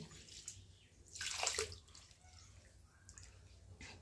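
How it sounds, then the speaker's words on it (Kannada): Water poured into a bowl over washed dosa grains to soak them, a short rushing splash rising near the middle and then fading, with a quiet room afterward. "ಅದಕ್ಕೆ ಅವು ಮುಳುಗುವಷ್ಟು ನೀರು ಹಾಕೋದ್ರಿ"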